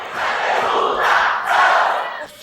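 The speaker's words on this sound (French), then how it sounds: "Dans la salle, la foule exulte." A crowd of supporters cheers and shouts loudly in a hall before a politician's speech on education, a dense sustained roar swelling in waves for a couple of seconds.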